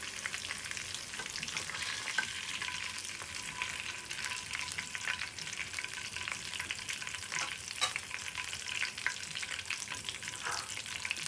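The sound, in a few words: fish slice frying in a pan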